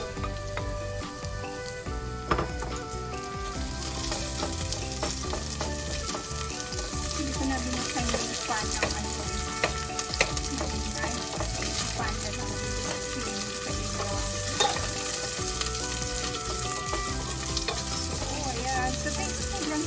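Onion and garlic sizzle in a hot pan, a steady dense crackle of frying with occasional stirring scrapes continuing evenly throughout.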